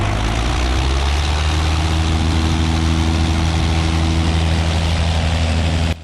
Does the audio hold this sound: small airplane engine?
yes